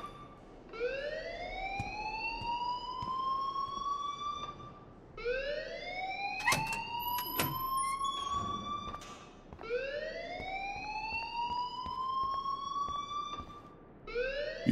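A fire alarm in the video game Life is Strange wails in repeated rising sweeps, each about five seconds long, loud and steady, with a few sharp clanks and knocks over it partway through.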